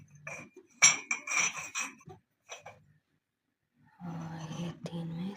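Small plastic balls being dropped into containers while packing Eid gifts, giving several quick clinking clatters in bursts, then a pause and a steadier low rustling handling noise near the end.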